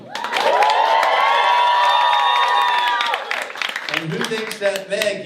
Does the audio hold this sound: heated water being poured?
no